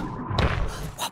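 A cartoon thunk in an underwater setting, one dull low thud followed by a short second knock over faint background ambience.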